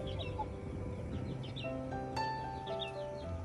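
Hens on a Vietnamese countryside farm, soft intermittent clucks and chirps at moderate distance over a steady outdoor background, no talk.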